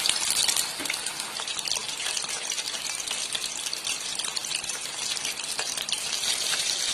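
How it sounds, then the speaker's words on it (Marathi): Chicken lollipops frying in hot oil over a lowered flame, turned to brown on both sides; a steady dense sizzle and crackle runs throughout, close and fairly loud with no talk. "आता याची फ्लेम स्लो करते आणि दोन्ही बाजूने असे मस्त खरपूस तळून"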